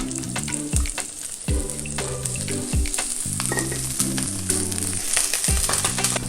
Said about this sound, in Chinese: 然后姜、蒜、葱，要爆香。 爆香后，红萝卜下